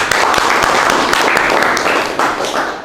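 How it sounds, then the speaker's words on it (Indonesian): A class clapping together for a good answer during an engine cooling system lesson, loud and close, with uneven overlapping claps that thin out toward the end. "Tepuk tangan dulu."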